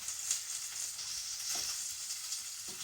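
A Morrisons sausage sizzles steadily on a grill, a continuous close hiss and crackle with small pops, no voices.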